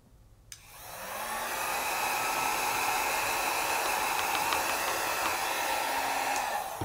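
A hair dryer switches on and blows with a steady, loud whooshing roar, drying chalk on a handmade Christmas card without pause for several seconds.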